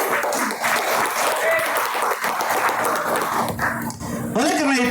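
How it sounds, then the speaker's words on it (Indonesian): A crowd at an Indonesian political speech applauds in a loud, continuous patter of clapping, with voices and a sung or shouted tone rising near the end. "Boleh dong tepuk tangan untuk ini."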